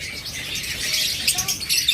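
A pair of violet parblue opaline pet birds, six months old, chirping in a cage, with a dense high chatter and a few brief whistled notes over steady background noise.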